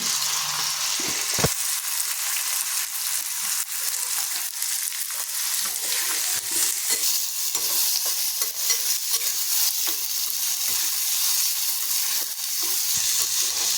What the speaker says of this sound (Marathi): भाजायसाठी कांदा टाकते